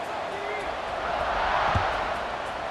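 Crowd noise buzzes in the EA Sports College Football 26 video game before a kickoff, a steady, fairly loud stadium murmur with a commentator speaking over it.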